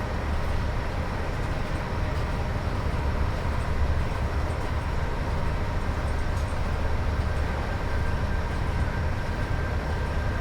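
A Class 86 electric locomotive in a train simulator game powers up along the West Coast Main Line, a dense, unbroken rumble and roar of rail noise holding at a steady loud level throughout.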